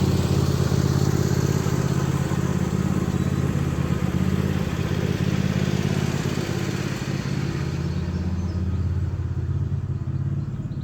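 A farm tractor engine runs steadily at a cabin property, a loud mid-pitched drone with mechanical clatter that holds for several seconds, then thins and fades slightly as it moves away.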